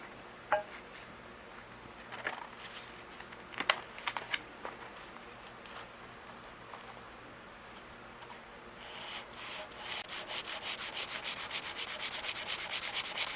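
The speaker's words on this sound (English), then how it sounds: "We'll just use a little bit of 100 grit first." Steady abrasive rubbing of 100-grit sandpaper on metal, part of a South Bend lathe saddle, slow and irregular at first with a few sharp taps, then quicker, denser back-and-forth strokes. No one speaks.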